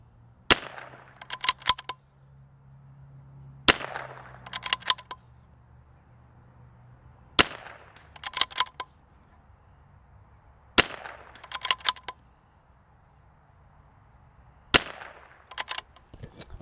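Five loud, sharp rifle shots from a rifle on an Ultradyne UD7 chassis, evenly spaced about three seconds apart. Each crack is followed by quick metallic clicks of the bolt cycling.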